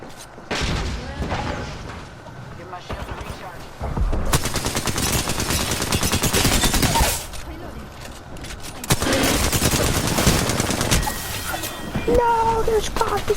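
Mastiff shotgun fire in Apex Legends, heavy booming blasts and dense bursts of gunfire in long loud stretches with brief pauses between, someone talking over the action.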